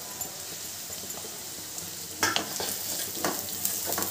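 Finely chopped onion and grated garlic frying in a pan for spicy chicken spaghetti, a steady close sizzle with a sudden louder hiss and a few stirring scrapes in the second half.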